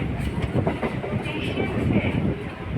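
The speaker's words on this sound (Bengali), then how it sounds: "আস্তে আস্তে আমাদের দমদম থেকে মধ্যমগ্রাম যাওয়ার মধ্যে ফার্স্ট স্টেশনে ট্রেনটি দাঁড় করাচ্ছে।" A suburban commuter train slowing as it pulls into Dum Dum Cantonment station near Kolkata, a steady rumbling roar of wheels and carriages heard from on board, with faint talk in the background.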